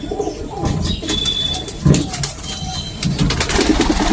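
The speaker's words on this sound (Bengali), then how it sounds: "অনেকগুলো কবুতর" Several pigeons in a loft cooing and fluttering nearby, soft calls mixed with brief wing flaps and faint chirps, continuous throughout.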